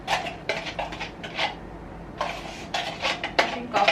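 A spoon scraping and clanking against a metal cooking pot while biryani is mixed with yogurt, in repeated irregular bursts of clatter, loud and close, with no talking.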